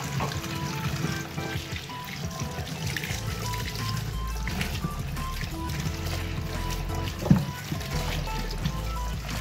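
Harvested pak choi leaves are swished and rinsed in water, with gentle trickling and sloshing close by, continuous with a small splash near the end.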